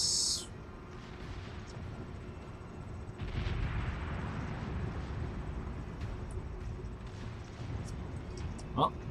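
Warship guns firing at a North Carolina battleship in the naval game World of Warships, heavy booming salvos and rumbling blasts rolling continuously at moderate loudness with a sharp crack near the end.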